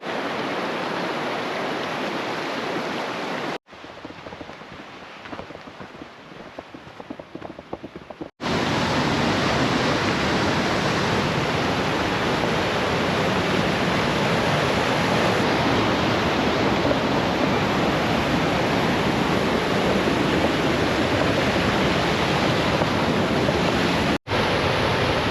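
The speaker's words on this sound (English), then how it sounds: "Hey, that's that waterfall we stopped at earlier." A waterfall on the Big Pine Lakes hike along Highway 395 roars as steady broadband rushing water. It sounds loud and close, with one brief quieter stretch early on, and no one speaks.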